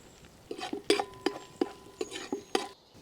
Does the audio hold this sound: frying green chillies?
yes